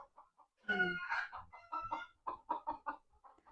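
Chickens cluck in a series of short, close calls, one louder drawn-out squawk followed by rapid repeated clucks, with no talking over them.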